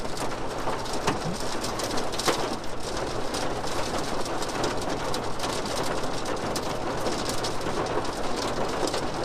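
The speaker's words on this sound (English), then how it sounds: "we're just gonna be on the edge of the rain and hail." Heavy rain pours steadily at the edge of a severe storm with hail, a dense continuous wash of sound with faint bird calls behind it and no voices.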